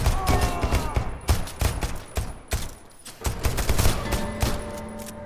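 Gunfire shootout in the multiplayer game Deceit 2: loud, dense volleys of rapid shots and bursts that keep overlapping, with a brief lull midway, and no voices.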